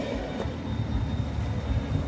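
A tram on Hunter Street in Newcastle rumbles past nearby, a continuous low rolling rail noise with a faint steady whine above it, no voices.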